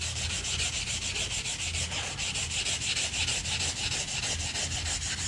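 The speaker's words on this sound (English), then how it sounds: "When your file gets like that, you can either use a wire brush or a file card" A file card scrubs aluminum out of the teeth of a metal file, making a continuous, fairly quiet raspy brushing sound with a steady back-and-forth texture and no talking.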